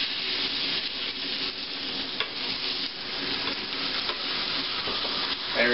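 Sandwich searing in an old panini press with butter underneath: a steady, close sizzle and frying hiss that holds at an even level throughout, with a few faint clicks and no talking.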